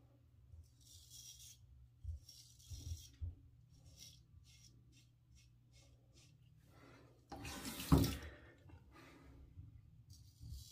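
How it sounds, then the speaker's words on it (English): Running tap water rinses a straight razor blade in a bathroom sink: soft intermittent splashing and trickling, with a brief louder gush near the end, heard close and alone without talk. "I will also rinse my blade underneath water or running water."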